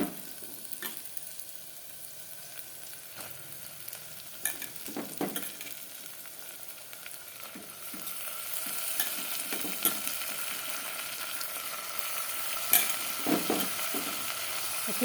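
Bhog rice being fried and stirred in a pan, with a soft continuous sizzle and intermittent scraping and clinking of the spoon against the pan. The sizzle grows louder partway through.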